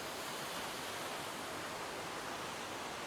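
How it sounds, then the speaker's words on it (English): A steady, dense roar of falling water, broadband and unbroken throughout, like standing close to a rushing waterfall. "For this weekend is noisy waterfalls."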